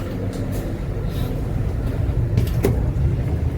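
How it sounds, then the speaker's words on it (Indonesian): Steady low rumble of the Argo Sindoro passenger train with its diesel locomotive in service, heard close and continuous at a moderate level with a few faint clanks layered on top. "Ini lokomotif dinasnya."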